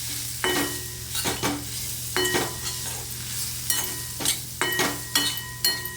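Spices including turmeric, coriander powder, garam masala, chili and onion-garlic masala sauté in a pan, a spatula scraping in repeated rhythmic strokes over a steady low sizzle, close up and without speech.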